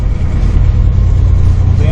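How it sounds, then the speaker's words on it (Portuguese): Deep, steady rumble of a Chevrolet Opala SS's 4.1-litre six-cylinder engine with plenty of torque, a continuous close low drone holding even loudness throughout. "tem um ronco de 6 cilindros bem encorpado"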